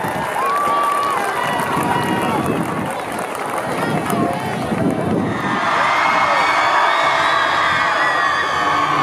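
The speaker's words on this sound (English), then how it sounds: "Give them a round of applause." A crowd at a 2019 high school sports Hall of Fame ceremony cheers and applauds the inductees, a loud, dense, sustained roar of voices and clapping with an announcer's voice mixed in.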